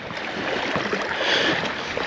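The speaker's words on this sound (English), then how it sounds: "Oh, something splashing there." Small fish splash in shallow water along a remote island shore, a soft, close watery rustle and lapping with no voices.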